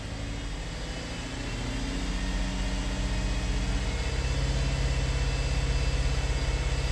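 Steady hum of a car engine held at about 2,000 RPM during an alternator check, with the drone rising slightly and staying even, close and moderately loud, with no talking over it.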